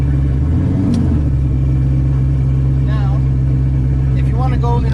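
A Ford GT500 drag car in first gear idles with a heavy, loud, steady rumble and creeps forward, a low throb dominating while people talk over it.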